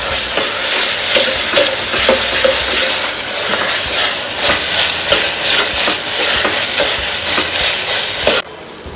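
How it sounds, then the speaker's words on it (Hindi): Ginger garlic paste fries with onions in a hot pan for matar pulao, a loud, continuous close sizzle with repeated scraping stirs throughout, cutting off sharply near the end. "जिंजर गार्लिक पेस्ट को भी अच्छी तरह से फ्राई करेंगे"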